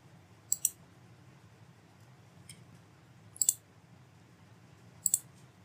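Mouse clicks on a computer while searching for a screenshot website, heard as three short pairs of crisp double clicks spread over several seconds against a quiet low hum.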